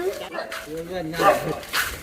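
A dog at night in a Gujarati village street gives short barks and whimpering yips while people talk close by.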